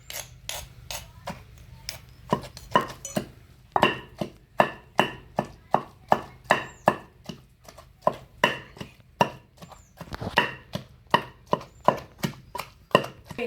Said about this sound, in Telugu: ఇలా దంచుకుంటే చాలండి